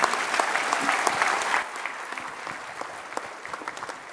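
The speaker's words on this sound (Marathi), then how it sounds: "जरा जोरदार टाळ्यांचा कडकडाट" Loud, dense applause from an audience at a public event in Maharashtra following a speech by Deepak Kesarkar, steady for the first second and a half, then thinning slightly but continuing throughout.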